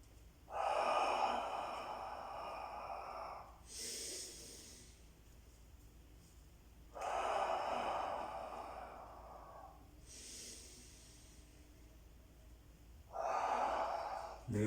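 Slow, audible breathing during a Pilates exercise paced with arm beats, long hissing breaths alternating with quieter pauses, close and steady, no talking.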